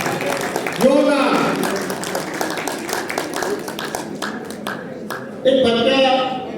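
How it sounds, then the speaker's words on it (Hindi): Crowd at a community annual function claps for a child, a continuous patter of many hands that carries on between stretches of loud amplified speech at the beginning and end. "जोरदार तालियां बच्चे के लिए,"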